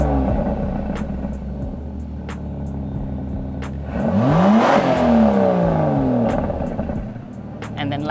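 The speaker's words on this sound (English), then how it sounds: "Let's hear the exhaust note in GT mode." An Aston Martin DBS Superleggera engine idles in GT mode with a low burble, then surges into a loud rising rev that sweeps up and falls away before settling again.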